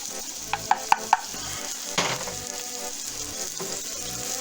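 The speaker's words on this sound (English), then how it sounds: "this has got a good sizzle going" Haddock fillets frying in a pan give a steady, close sizzle with soft crackling throughout, punctuated early by a few sharp clicks and a brief scrape of a utensil.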